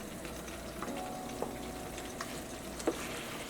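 Cooked beef tipped into a sizzling pan with peppers and green runner beans gives a steady, fairly faint frying hiss, broken by a few light clicks and taps of stirring.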